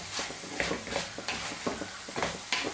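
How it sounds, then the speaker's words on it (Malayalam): Curry leaves sizzle and crackle in a hot pan of frying brinjal and potato, with repeated bursts of spatula stirring scraping the pan in a steady rhythm, close and moderately loud. "ഇതിലേക്ക് നമുക്ക് കുറച്ച് കറിവേപ്പില ഇട്ട് കൊടുക്കാം."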